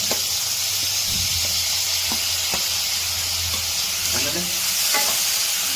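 Tomatoes go into a pan after onions have browned, and they frizzle in a continuous close hiss while scraping stirring strokes and light clatter come through, with no voices.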